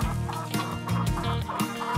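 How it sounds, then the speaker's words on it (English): A speckled Sussex hen out with her older chicks gives repeated low clucks and soft calls in short bursts, close and clear, with no talking. "A speckled Sussex hen is taking her older chicks for a morning stroll."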